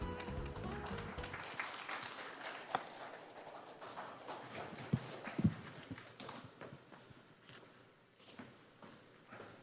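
An audience applauds at a university president's inauguration ceremony, a steady wash of many hands clapping that rises after a brief pause and then slowly tapers off.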